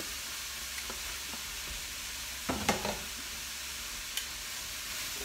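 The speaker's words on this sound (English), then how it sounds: "and our cauliflower, and we're gonna stir fry those for a little bit" Cauliflower and asparagus stir-frying in a pan, a soft steady sizzle with a short cluster of clattering stirs and scrapes near the middle and a lone tap later on.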